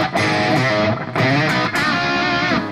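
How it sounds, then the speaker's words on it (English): A heavily distorted electric guitar plays a song part, loud and close, in dense sustained chords broken into three phrases by brief pauses. "it kicks into the super heavy distorted part"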